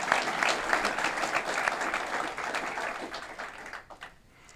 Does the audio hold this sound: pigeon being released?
no